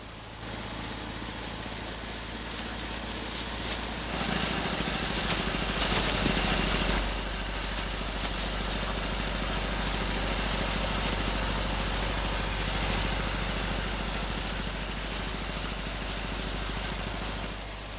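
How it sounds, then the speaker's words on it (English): A steady mid-pitched tractor engine drones on continuously while cutting hedges in the Burgundy bocage, growing a little louder and rougher partway through as the machine works, with no voices. "Tractors have replaced the old hedge cutting tools"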